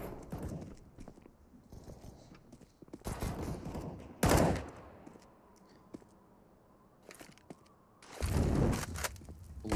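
M4 rifle fire in Counter-Strike: Global Offensive on the Nuke map, several loud bursts of rapid automatic shots in separate volleys with quieter gaps and footsteps between them.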